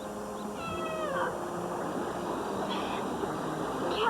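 A cat meows in a TV promo with a steady broadcast background: one drawn-out, wavering meow near the start, followed by fainter mewing calls later.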